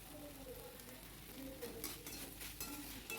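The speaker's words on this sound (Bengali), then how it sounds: "মোচাটা একটু ভালো করে নেড়ে চেড়ে নিয়ে" Banana flower curry being stirred in a pan, with soft scraping and a light sizzle that stay quiet and steady, plus a few faint clinks of utensil against metal.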